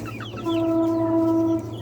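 A chicken gives a clear sustained call, loud and close, with softer clucks before it over a steady low background hum; no talking.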